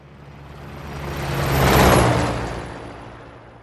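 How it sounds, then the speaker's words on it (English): A passing vehicle sound rendered with high-definition Doppler emulation swells from a distance to a loud close pass around the middle and then fades away, engine whir and rushing noise shifting as it goes by. "the same sound file played back through our high-definition Doppler emulation"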